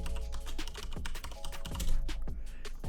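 Rapid, close key clicks on a computer keyboard as a password is typed, a dense, even run of keystrokes with no talking.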